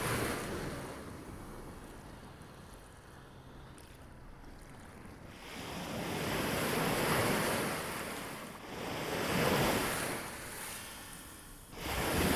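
Ocean surf rolls in and recedes in broad swells, rising to loud crashing peaks and easing back into softer hiss, with wind noise buffeting the microphone throughout.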